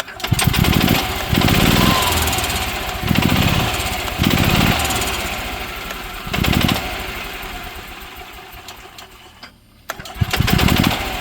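An EZ GO golf cart engine with a newly installed carburetor runs in loud, pulsing bursts of revving that rise and fall, dip briefly near the end, then surge again, with a little background talk.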